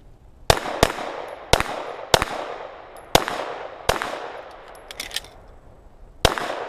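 Pistol shots crack out during a Ben Stoeger shooting drill, seven or eight sharp, loud reports at uneven intervals with a brief pause partway through and a short ringing tail after each.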